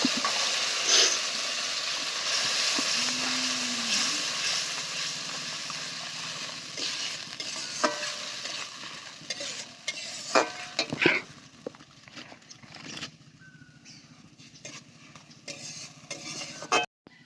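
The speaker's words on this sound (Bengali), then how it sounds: "এই বেটে রাখা মশলাটা তেলের ওপরে ভালো করে ভেজে নেব।" A ground onion and tomato spice paste frying in oil for sarson potol, stirred in a pan: a steady sizzle with scattered spoon scrapes and clinks that grow sparser and quieter toward the end, no voices.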